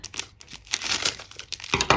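Crinkly plastic packaging bag being cut open with scissors during an unboxing, with repeated close crackling rustles and a louder crinkling burst at the end, no talking.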